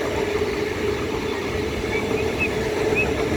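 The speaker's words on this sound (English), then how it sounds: "Look how amazing this train looks." A Sydney suburban train rolling through Macdonaldtown station, a steady rumbling drone with faint high wheel squeals drifting in and out at moderate distance.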